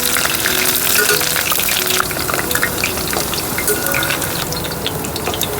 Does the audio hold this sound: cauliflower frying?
yes